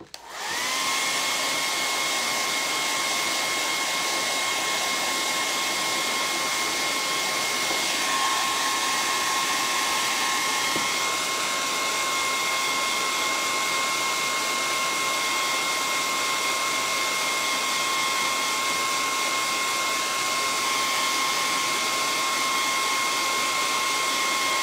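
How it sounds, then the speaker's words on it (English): Hair dryer runs steadily and loudly for the whole stretch while drying hand-painted doll socks and shoes, with a constant whine that shifts pitch slightly partway through and no talking. "I'm gonna hit these with the dryer real quick."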